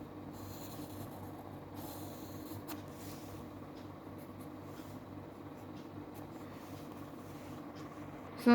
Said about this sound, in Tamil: நான் வந்து பிளாக் பென்னால் எழுதுகிறேன்